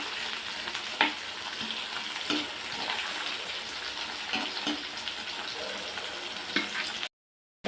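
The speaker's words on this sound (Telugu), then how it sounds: "టమాటా ఉడికి మగ్గాక మనం తీసేస్తాము తర్వాత ఒకసేపు మగ్గనిద్దాం టమాటా" Tomatoes sizzle and fry in a pan for an Indian egg masala curry, a steady close crackle broken by several sharp clinks and stirs of a utensil against the pan, with no talking.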